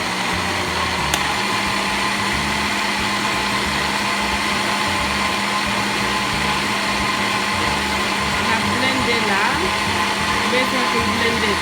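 A blender runs continuously and loud, mixing green plantain porridge with milk in a kitchen, a steady whirring motor drone with no pauses throughout.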